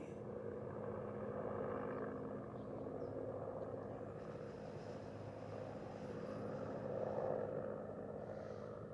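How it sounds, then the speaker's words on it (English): A distant helicopter drones steadily, a faint low rumble with a soft whirring texture that swells slightly as it passes overhead. "Oh, that's a helicopter."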